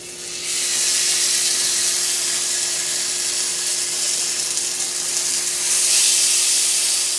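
Lamb blade shoulder chops sizzling in a cast iron pan make a loud, close, continuous frying hiss that holds steady throughout and swells slightly near the end.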